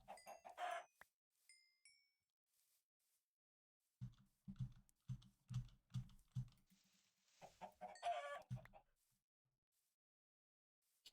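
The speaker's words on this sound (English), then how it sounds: "It's the chicken." Chickens cluck in the GregTech New Horizons modpack, as a quick burst of clucks followed by a run of evenly spaced short clucks and another burst at the end, with a voice talking in between.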